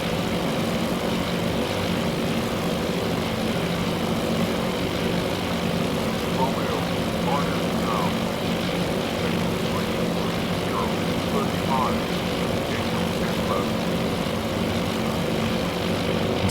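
Constant droning propeller aircraft engines in Task Force Admiral, a loud steady hum with faint voices murmuring underneath throughout.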